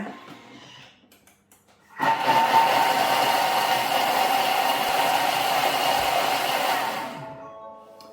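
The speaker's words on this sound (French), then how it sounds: "Et là, on va mixer 30 secondes. Vitesse 6." A food processor runs at speed 6, mixing carrot spice cake batter: after a faint start it settles into a loud, steady motor whir with a broad rushing hum for about five seconds, then winds down.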